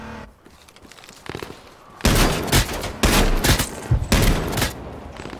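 Gunfire in the battle royale game H1Z1, starting with a few faint distant shots and then giving way to loud, close bursts of rapid shots in several clusters.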